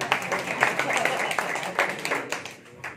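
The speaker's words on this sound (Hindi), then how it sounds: "एक बार और तालियां।" Audience applause at an education-sector gathering in Gwalior, welcoming a former municipal corporation chairperson: a steady, fairly close wash of many hands clapping for about three seconds, with a voice talking over it.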